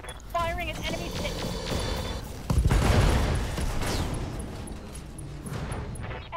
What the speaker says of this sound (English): Firing an enemy ship.